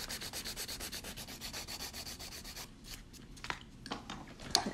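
A nail file rubs in steady, rapid back-and-forth strokes to smooth the edges of an enhancement nail during a pink fill, then gives way to a few lighter scrapes and small taps near the end.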